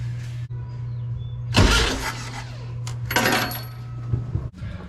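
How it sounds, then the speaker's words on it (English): Old VW Beetle engine, being worked on for a pulley replacement, cranks and spins briefly with a loud burst of starter and engine noise over a steady low hum, then a second rougher burst before it cuts off. "I'm gonna go ahead and start the car"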